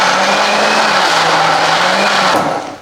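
A loud countertop blender whirs steadily while blending a chocolate orange frappe, a dense, harsh motor roar with a slight pitch shift partway through before it winds down at the end, no talking.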